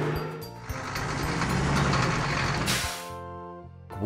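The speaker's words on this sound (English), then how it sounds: "School bus." A school bus engine drones at close range with a dense, steady rumble, then gives way to a hiss-like burst and a brief humming tone, ending in a short quiet gap and a final swell.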